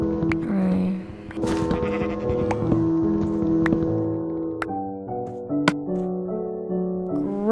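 Sheep bleat repeatedly in a blocky survival-crafting video game, mixed with game sound effects and background music, with no speech.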